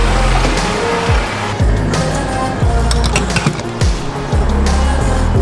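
An all-wheel-drive car with a dual-clutch gearbox and sport mode drives on the road near Zion National Park, its steady low engine and road rumble loud and continuous, with brief pitch sweeps like gear changes.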